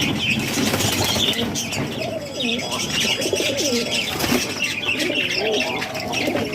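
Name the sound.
Siraji fancy pigeons cooing and flapping wings in loft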